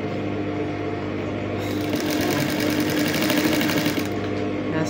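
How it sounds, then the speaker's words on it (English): A sewing machine stitches boning onto dress fabric in a steady, close, continuous mechanical whir. The run holds the same rhythm throughout and grows slightly busier midway, with no speech over it. "then I'm gently sewing it with my machine"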